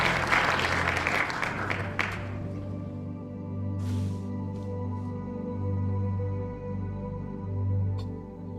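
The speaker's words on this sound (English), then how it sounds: "We can get an applause for the 60-second atelier." A live audience bursts into brief applause that cuts off after about two seconds, leaving a low steady hum and a few faint knocks and rustles.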